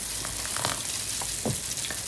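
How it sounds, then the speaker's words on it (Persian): Sugar syrup for sekanjabin boils in a pot, giving a steady close bubbling hiss with scattered soft pops and a few faint clinks, with no talk. "شیکری که تو آب میجوشه خیلی خیلی حرارتش بالاست"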